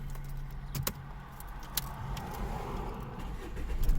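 A car is started with its keys in a driving-test car: a brief jangle of keys, then a low engine hum settling in, near and fairly steady, with no talking.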